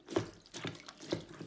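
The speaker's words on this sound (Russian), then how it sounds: "Слышно и видно, как с швабры стекает вода." Water runs and drips from a wet floor mop into a mop bucket with a wringer, a few soft splashy trickles arriving in irregular pulses, close and fairly quiet.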